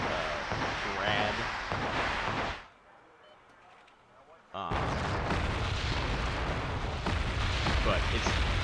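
Incoming Grad rocket artillery in a video game lands as loud rumbling blasts and crackling impacts, breaking off into near silence for about two seconds before the barrage resumes; someone talks over it.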